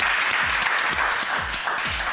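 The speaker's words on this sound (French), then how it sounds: "on applaudit très très fort Léa" A television talent-show studio audience applauds loudly and steadily, close-up clapping with rhythmic low thumps running through the whole burst.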